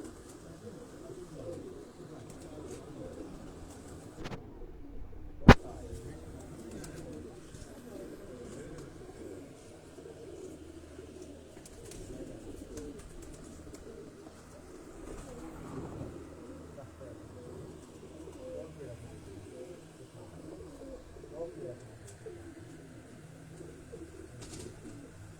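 Pigeons of an old dub breed coo softly and repeatedly under someone speaking, with a single sharp knock partway through.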